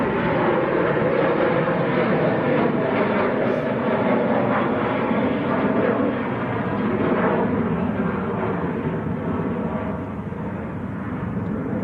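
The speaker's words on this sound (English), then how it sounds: "Next to land, one of Jet2's newer aircraft, an A321neo, Golf Hotel Lima Yankee Juliet." A Jet2 Airbus A321neo airliner landing at Manchester Airport gives a loud, sustained broadband engine roar that holds steady close by and eases slightly toward the end.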